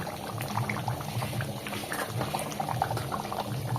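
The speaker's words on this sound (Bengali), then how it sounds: "আর এইভাবে করে আবারও ভালো করে এক মিনিট মতো ফুটিয়ে নিতে হবে" Mutton chaap gravy bubbling at a steady boil in a pot, a continuous close burbling and popping with no voices.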